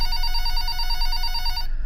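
A telephone bell rings in a home, a steady and loud ring that carries on alone for almost two seconds before cutting off abruptly.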